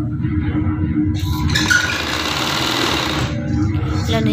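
A sewing machine stitches the lining of a blouse in a steady, fast, close mechanical whir, rising in intensity midway and then settling back, with no talk over it.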